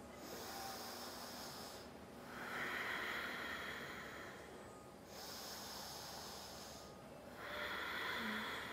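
Deep, slow breaths during a vinyasa yoga practice with blocks, held in a high lunge. Three long, airy breath cycles rise and fall close by, with no talking.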